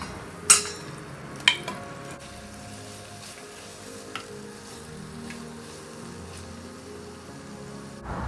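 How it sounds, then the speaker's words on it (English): Mutton pieces stirred into soft, mushy tomatoes in a frying pan: a couple of sharp spoon clanks against the pan early on, then gentle sizzling and scraping as the mixing continues, with no talking. "Then add the mutton pieces and mix."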